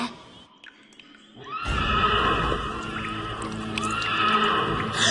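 A horse neighs in a My Little Pony cartoon, a long loud whinny breaking in after a quiet start and carrying on to the end, with no one talking.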